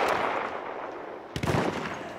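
Gunfire in Battlefield 1 during a Rush match, a dense clattering burst of shots with a sharp loud crack near the end, set against constant battlefield noise.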